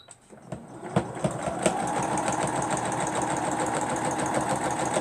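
A sewing machine stitches through a stuffed animal with a steady, fast mechanical whirring and ticking, starting with a few clicks and then running continuously at close range.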